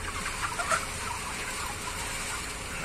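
A dense, steady chorus of many chickens clucking and chattering inside a poultry farm shed in Cândido de Abreu, Paraná, a continuous mid-distance murmur with no single bird standing out.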